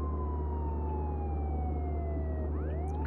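A police siren in the video game Contraband Police wails loud and close with a falling tone, then starts a new rising sweep near the end, over a constant low engine drone.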